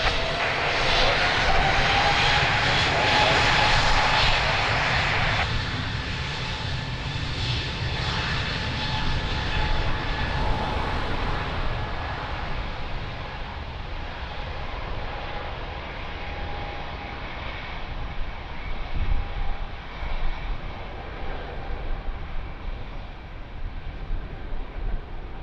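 An airliner takes off from runway 02 at Lisbon Airport, a loud jet engine roar with a rising whine that gradually fades into the distance.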